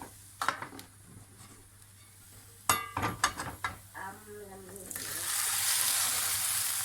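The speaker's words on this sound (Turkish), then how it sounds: "Diğer tarafını da kızartacağız." An omelette sizzles in a hot pan, rising to a steady frying hiss, with a few clinks of a utensil against the pan beforehand.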